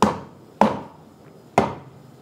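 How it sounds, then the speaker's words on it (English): A mallet crushes two garlic cloves in a home kitchen while wonton soup is made, giving three sharp, close thuds about a second apart, each decaying quickly, with no talking. "And while I've got the mallet out, I'm just gonna crush my 2 cloves of garlic as well."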